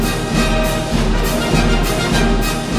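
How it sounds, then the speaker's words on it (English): An excerpt of Tchaikovsky's 1812 Overture, an orchestral work written in 1880, plays its famous melody at normal tempo, full and steady with dense sustained harmony and no voices. "If you take Tchaikovsky's 1812 Overture, which was written in 1880, it normally sounds like this."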